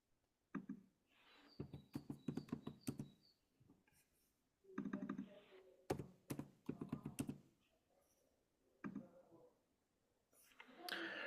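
Keys tapped out in short clustered bursts on a computer keyboard while a word is entered, soft and close, with quiet pauses between flurries.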